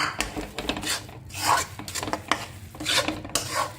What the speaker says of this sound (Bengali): দিয়ে ভালো করে আমি নাড়তে লাগবে যাতে না নিচে বসে যায়